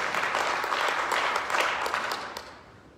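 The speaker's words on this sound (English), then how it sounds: "Let's give our candidates a round of applause." At a chamber of commerce candidate forum, the audience applauds the candidates with a dense burst of many hands clapping. It starts full and then tapers off over the last second.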